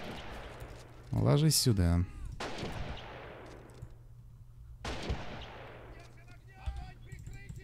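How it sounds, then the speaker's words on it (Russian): Recoilless guns and artillery fire in Men of War: Assault Squad 2, a few sharp booms with long decaying rumbles, mid-distance, while someone talks briefly over them. "еще и здесь безоткатники действуют"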